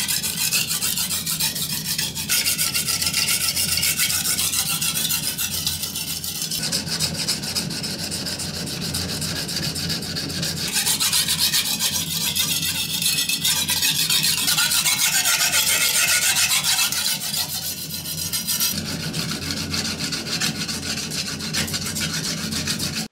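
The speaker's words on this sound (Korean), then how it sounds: "이 스크래치 패턴이나 어느 정도 연마가 되는 소리, 연마 정도를 보여드리도록 할게요" A knife blade grinds steadily against a coarse 80-grit diamond whetstone in long, repeated abrasive strokes, loud and close, with no talking.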